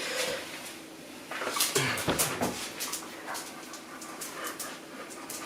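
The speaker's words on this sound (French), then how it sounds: "Et mon chien m'a ramené encore un autre jouet." A dog pants quickly and close by with a toy, with some rustling and scuffling around it.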